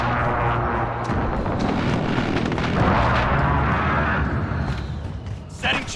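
Cruise missile and airstrike explosions in the Call of Duty: Modern Warfare video game roll as continuous heavy booming and rumbling, loud and close, with game voice callouts over the blasts.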